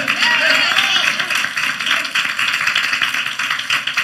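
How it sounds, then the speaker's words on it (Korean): A Korean church congregation gives loud, continuous applause during a Sunday morning worship service, a dense wash of clapping that runs the whole time. "먼저 우리 하나님께 박수로 영광 돌리겠습니다"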